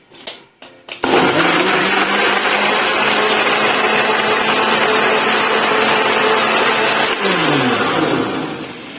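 A blender grinds khoya and dates for a milkshake, starting after a brief pause and then running as a loud, steady, continuous whir until the end, with no voices.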